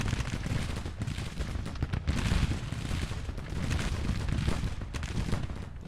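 Massed long-range musket volleys in the Civil War strategy game Grand Tactician, a continuous crackling rumble of distant rifle fire rolling on without pause, fairly loud and steady.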